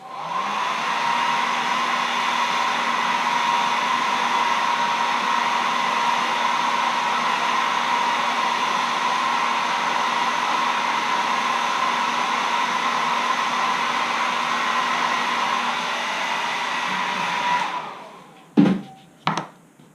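A hair dryer blows steadily and loudly on a freshly painted carved wooden caricature letter opener, a constant whooshing hum that runs without a break, then cuts off near the end, followed by a couple of sharp handling knocks.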